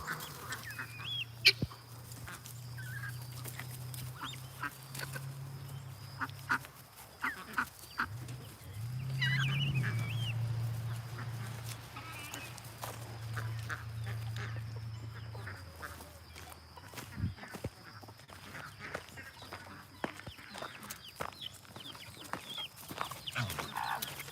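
Backyard chickens cluck and squawk around a coop, with a hen that hatched chicks on her own. Their calls come close and fairly loud, in irregular bursts, and a longer sustained call rises in the middle.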